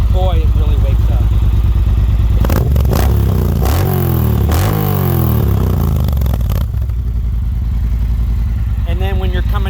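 A Triumph Bonneville Bobber motorcycle engine idles, then revs hard on the throttle in several rising and falling bursts. The bike is loud and close, and someone talks over it.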